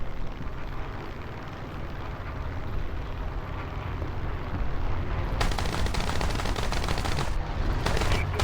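Rapid bursts of 30mm cannon fire from a German FW 190 fighter in a flight combat game ring out over a constant engine drone, the loud firing thickening in the last few seconds.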